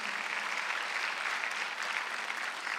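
Church congregation clapping together during a Sunday worship service, a dense continuous patter of many hands filling the room without pause.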